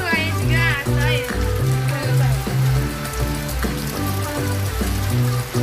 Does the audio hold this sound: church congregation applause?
no